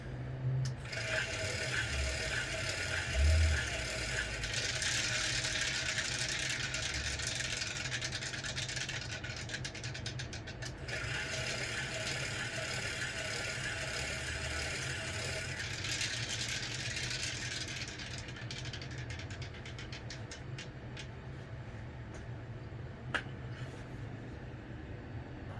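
Reels of a DIY slot machine spinning, making a steady mechanical whir that runs continuously and close by, with brighter surges in the middle stretch before it settles into an even hum.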